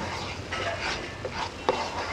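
Paprika powder being stirred into a tempering mixture in a pan, quiet scraping strokes with a faint sizzle and a small clink of the spoon.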